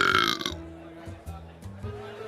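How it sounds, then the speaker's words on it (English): A loud, close burp blasts straight into a live-stream comedian's microphone, distorting for about half a second before dropping to a low hum with faint background murmur. "I think I burped it out of control"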